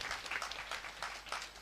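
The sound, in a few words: audience applause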